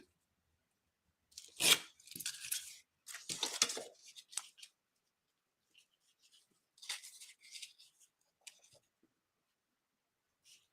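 Paper is ripped down by hand while making a no-sew window envelope journal, with several close, crisp tearing and crinkling bursts separated by quiet pauses.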